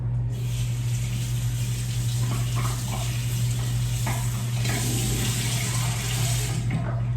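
Tap water runs steadily into a sink while clay mud mask is washed off, a constant close splashing rush with faint handling sounds.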